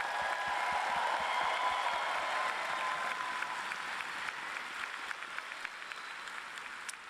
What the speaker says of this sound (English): Let's give our graduates another big round of applause.